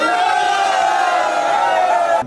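A handball crowd celebrating RK Celje Pivovarna Laško's 2018 national championship roars and cheers loudly and continuously, a sustained dense crowd din that cuts off abruptly at the end.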